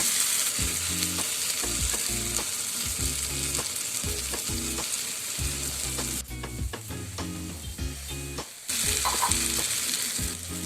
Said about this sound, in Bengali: এবার সাবধানে বেগুনটাকে মশলার সাথে একটু কষিয়ে নিতে হবে।